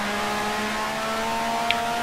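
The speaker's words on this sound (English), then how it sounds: "Down into second gear, sliding the car there through the apex" A 1960s-style Grand Prix race car in the Grand Prix Legends sim at the 1965 Italian Grand Prix, engine droning steadily as it downshifts to second and slides through the apex, loud and continuous.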